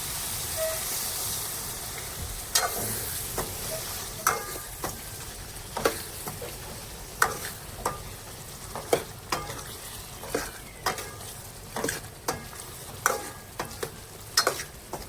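Tiger prawns cooking in a pan with a little added water give a steady hiss and sizzle. A spoon stirs them with sharp scraping clacks every second or so throughout.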